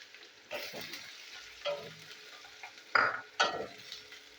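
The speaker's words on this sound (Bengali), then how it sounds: "তো পেঁয়াজটা আমি ভেজে নিই" Chopped onion fries with cumin seeds and bay leaf in a pan, with soft, close sizzling and a few scraping stirs of a spatula at irregular moments.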